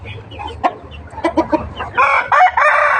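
Roosters on a fighting-cock farm cluck and call in short bursts, then a louder crow rises in the last second, close by with a low farmyard rumble underneath and no talk.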